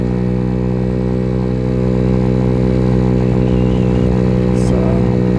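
Venom X18 50cc motorcycle engine running steadily while riding, a constant buzzing drone held at one speed with little change in revs, loud and close throughout.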